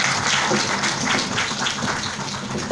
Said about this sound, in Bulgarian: Моля обаче за вашите аплодисменти